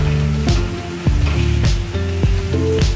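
Water poured slowly into a pan of spiced paneer and potato curry, a steady hiss and sizzle with short splashing bursts, close and fairly loud.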